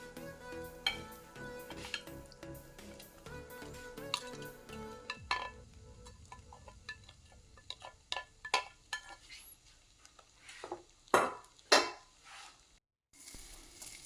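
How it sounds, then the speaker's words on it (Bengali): Chicken rice is stirred in a pan, with a spoon scraping and clinking against the metal over a low sizzle. Irregular sharp clinks grow louder and more frequent toward the end, with no talk. "আবারও ভালো করে নেড়ে দিলাম আমি। দেখতেই পাচ্ছেন এদিক ওদিক করে নেড়ে দিচ্ছি।"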